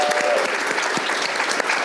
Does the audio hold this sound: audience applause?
yes